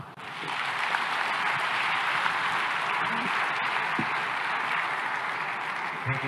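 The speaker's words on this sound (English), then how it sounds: "One more time, a big round of applause for President Ruto." Steady, dense applause from a summit audience honoring President Ruto rolls on for several seconds at even loudness, with scattered sharper claps standing out.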